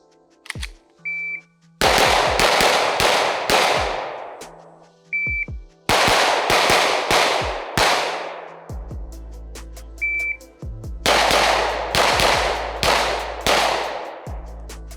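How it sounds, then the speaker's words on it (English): Sig P320 pistol fired in sharp, loud bursts of rapid shots during a box drill, two to the body and one to the head, with quick strings separated by short pauses and faint timer beeps at the start. "for this drill, we have the box drill, which is 2 shots to the body, 2 shots to the body, 1 shot to the head, 1 shot to the head"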